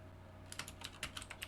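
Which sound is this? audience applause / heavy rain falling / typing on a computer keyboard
typing on a computer keyboard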